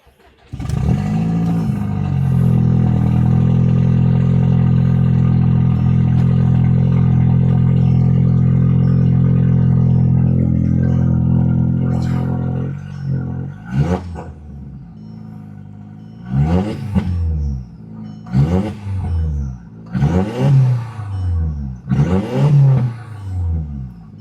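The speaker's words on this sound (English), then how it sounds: "We'll start her up and idle her, see what she does." A 2004 Audi TT mk1 8N engine after radiator repair: it cranks and settles into a loud, steady idle for about ten seconds, then gives a series of short sharp revs, each rising and falling, up close.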